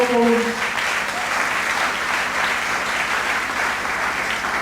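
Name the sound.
congregation applauding in church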